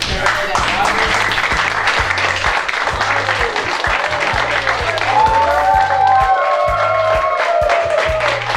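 Students in a high school journalism class clap together in a rhythmic, steady burst of applause that carries on throughout, mixed with lively voices and excited chatter.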